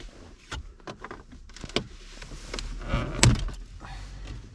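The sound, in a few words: Ford Focus stereo trim panel prised out with trim tool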